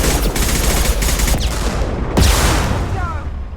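Shotgun fire in the Mass Effect 2 video game: continuous dense battle noise with rapid gunfire throughout and a heavier blast just past the midpoint, loud and close.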